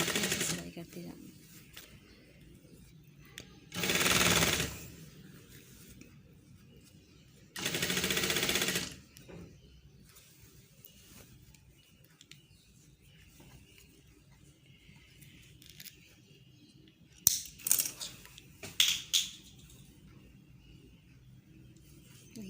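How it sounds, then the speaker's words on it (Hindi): A sewing machine stitches a half-inch seam joining a shirt sleeve, running in two short bursts of a second or so each, followed later by a few sharp clicks and taps of handling the fabric. "आधे इंच पे आपने ऐसे सिलाई करते जाना"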